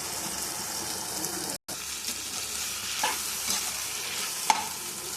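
Tomatoes and other ingredients sautéing in a pan with a constant close sizzle, occasional spoon scrapes and a brief clink, no voices.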